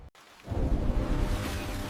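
A sudden rush of heavy rain swells in after a brief gap, turning into a dense, loud, continuous roar of downpour.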